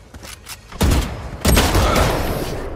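Gunfire in the Valorant match on the map Breeze: two sharp bursts of shots, the second heavier and more sustained, ringing out loud and alone.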